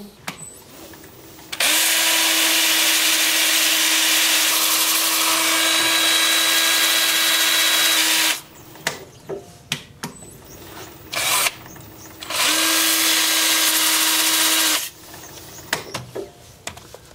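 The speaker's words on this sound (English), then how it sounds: "Time for sanding." A steady, loud power-sanding whine on a wooden bowl during wood turning runs for several seconds, stops briefly with some clatter, then starts again.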